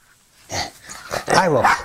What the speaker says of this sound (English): You ridiculous dog.